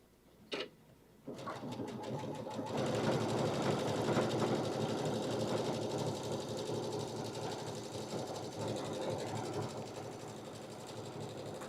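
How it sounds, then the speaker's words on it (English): An embroidery sewing machine stitches a taper stitch, starting with a brief click and then settling into a steady, continuous mechanical whir that runs close and fairly loud to the end. "So we're going to go ahead and start sewing with this."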